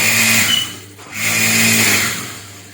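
Sewing machine running while stitching the edge of a sleeve, a steady close mechanical whir that eases off briefly near the middle and then resumes, with no talking.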